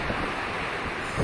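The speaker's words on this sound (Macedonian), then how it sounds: "Еве го морето" Sea waves wash steadily onto the shore in a dense, continuous roar with some wind noise mixed in; no voices.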